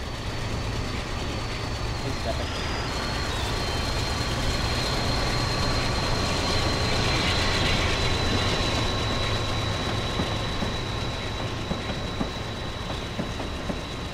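An Amtrak F40 passenger train in Train Simulator 2017 rumbles steadily with a droning engine and a high whine, running continuously under a brief spoken remark.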